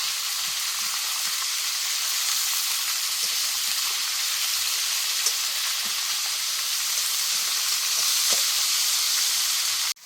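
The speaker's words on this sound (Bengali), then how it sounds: "নিয়ে এগুলো একটা কড়া বসিয়ে ভাজা আরম্ভ করে দিয়েছি।" Pieces of lata and koi fish fry in oil in a kadai, a steady, close, hissing sizzle with a few soft pops and no talking.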